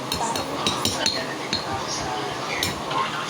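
Cutlery stirs toppings through food in a dish, giving light clinks and scrapes against the dish in an irregular rhythm, close but fairly soft, with faint talk in the background.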